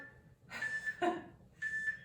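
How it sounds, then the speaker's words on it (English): A workout interval timer gives three short electronic beeps, fairly soft and evenly spaced, with no talk over them. "I'm gonna turn my timer down a little bit."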